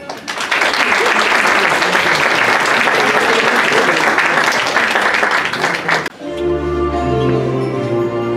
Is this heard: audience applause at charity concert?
yes